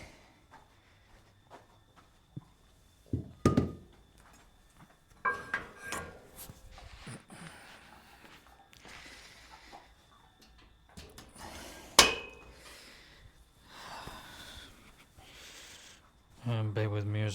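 A microphone is shifted and handled at a gym during a weightlifting session, giving scattered knocks, clacks and rustles of varying loudness, with a louder bump near the end.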